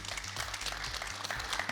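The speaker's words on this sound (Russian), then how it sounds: "Аплодисменты." Brief, fairly faint clapping from a group, steady and continuous over a low hum.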